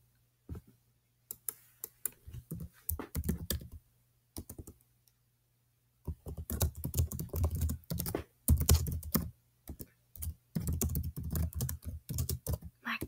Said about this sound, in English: You could probably just hear my typing in the background.